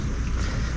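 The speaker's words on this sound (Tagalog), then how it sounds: "Pabugso-bugso yung malakas na hangin eh." Strong, gusty wind at a cold lakeside motorcycle campsite at Lake Tabeo in the Philippines, a steady broadband roar buffeting the microphone with low rumbling throughout, no voices.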